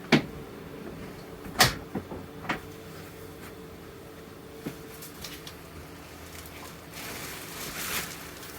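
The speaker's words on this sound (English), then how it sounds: "Now this is gonna fold down like this. You got a latch on this side." A fold-down bed lowered inside a 2021 Grand Design Imagine XLS 21 BHE travel trailer gives a few sharp clicks and knocks from its latch and frame, then faint shuffling and a soft thump near the end.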